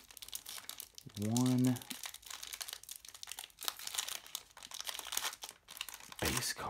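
A sealed trading card pack wrapper is torn open with crinkling and ripping plastic, close by, between stretches of someone talking; one short hum-like vocal sound briefly rises over it.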